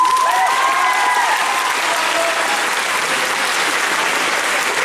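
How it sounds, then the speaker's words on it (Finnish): A large audience applauds continuously at the opening of the Animecon 2014 anime convention in Kuopio, a dense, loud, steady wash of clapping from the whole hall, with a faint voice or cheer briefly audible at the start. "joten antakaa aplodit itsellenne"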